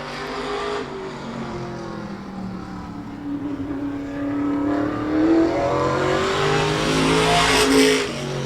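Race car lapping Claremont Motorsports Park, the 5B machine prepared by Louis Rivera, its engine droning steadily then swelling louder as it nears, with no talk over it.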